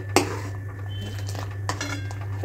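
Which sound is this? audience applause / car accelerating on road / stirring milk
stirring milk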